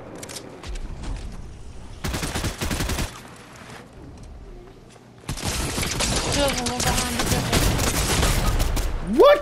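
Rapid video-game gunfire comes in loud, dense bursts, one short volley early and then a long sustained stretch of shooting near the end, with quieter gaps between and a voice heard briefly.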